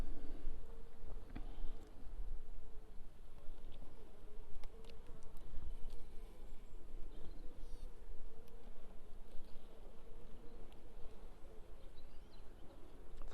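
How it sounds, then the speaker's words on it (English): Honeybees buzzing steadily around plastic hive frames during a hive inspection, a continuous low, close hum with faint scattered bird calls far off. "Fortunately, I've got quite calm bees at the moment."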